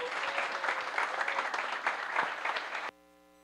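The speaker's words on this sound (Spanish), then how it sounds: "Muchas gracias y un aplauso para ustedes" A crowd at a municipal public accountability hearing for the Vegachí mayor's office applauds the work team, a lively spread of clapping with some voices mixed in, cut off abruptly near the end, leaving near silence.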